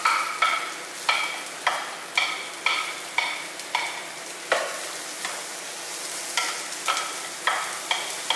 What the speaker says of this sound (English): And we cook the onion and garlic until soft.